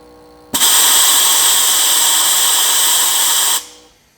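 Turbo tester running a test on the VNT actuator of a 1.6 HDI turbo, giving a loud steady whooshing machine roar that starts abruptly, holds evenly for about three seconds and then cuts off with a brief tail.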